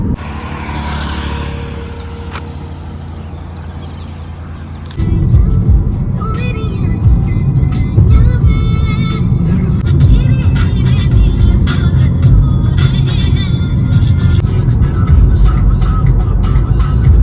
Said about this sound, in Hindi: गाड़ी यूँ ही चलती रहेगी, अल्टरनेट सब लोग ड्राइव करेंगे